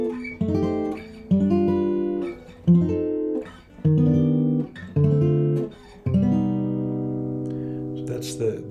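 Clean jazz guitar chords of the melodic minor chord scale strum one after another in a steady sequence, each ringing briefly before the next, with no voices.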